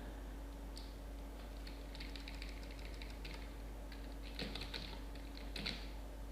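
Quiet clicks of typing on a computer keyboard, in scattered short bursts over a steady low hum, fairly close and without talk.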